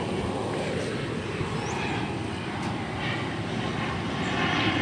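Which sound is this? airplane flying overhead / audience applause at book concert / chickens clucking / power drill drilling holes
airplane flying overhead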